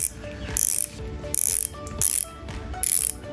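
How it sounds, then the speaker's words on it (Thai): Rapid mechanical ratchet clicking from the drag of a KastKing Sharky III 2000 spinning reel, in four bursts with short pauses between, close and fairly loud with no talk. "นี่ก็คือเสียงในการปิดเบรกนะครับ"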